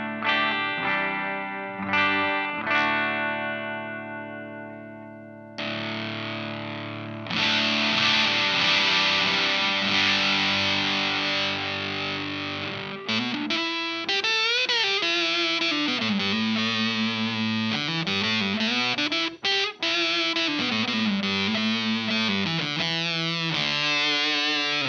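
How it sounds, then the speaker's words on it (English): Heavily distorted, buzzy electric guitar through a fuzz pedal, with sustained chords giving way to saturated, bending single-note lines, loud and continuous. "The fuzz sound is just gnarly."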